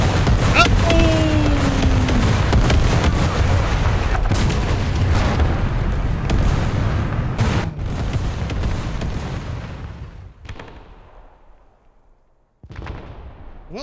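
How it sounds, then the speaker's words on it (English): Artillery in War Thunder, with heavy booms and blasts over a continuous rumble of battle, loud at first and then thinning out to sparse distant shots. "Now I'm probably going to die to artillery, probably friendly artillery."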